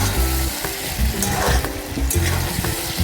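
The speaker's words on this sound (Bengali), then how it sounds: "ভেজে রাখা আলু মাংসগুলো দিয়ে দেবো, দিয়ে ভালো করে কষতে হবে" Meat and pre-fried potatoes sizzle loudly in a hot pan while being stirred and sautéed, with a dense, continuous crackle and occasional scraping strokes close by.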